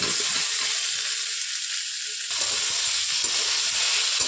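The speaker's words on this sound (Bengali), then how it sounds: "এবার ভালোভাবে মশলার সাথে নেড়ে চেড়ে ভেজে নেব।" Potato pieces fry in a pan with spices, salt and turmeric, giving a loud, steady sizzling hiss that dips briefly and then resumes with soft stirring scrapes; no voices.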